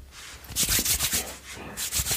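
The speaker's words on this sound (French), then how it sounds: "petit bruit de main pour ceux qui aiment" Close, soft rubbing and squishing of palms working cream together, in a few short swishing strokes with brief pauses between them.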